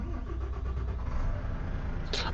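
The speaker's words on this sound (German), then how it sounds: "So, jetzt starten wir den Motor." Volvo FH 2022 truck engine in Euro Truck Simulator 2 cranking and settling into a steady low diesel rumble, close and continuous, with a brief bright click near the end.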